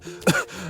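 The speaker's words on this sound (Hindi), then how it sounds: "मंत्री जी खांसने लगते हैं।" A minister coughs in a short, harsh burst after black smoke pours from an opened biryani pot, one loud cough with a rough, throaty edge, heard close and alone.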